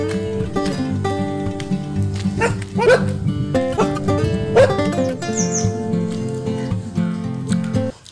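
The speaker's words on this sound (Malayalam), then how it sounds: "പട്ടി എന്നെ കണ്ടിട്ടാണ് കുരയ്ക്കണത്." A farm dog in a village barks repeatedly and close by in a rapid, uneven series, with a few whimpering yips and faint birdsong in the background.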